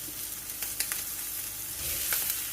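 Peppers and onion sizzle and fry in a pan with tomatoes, a steady close crackle with small pops and stirring scrapes and no talk.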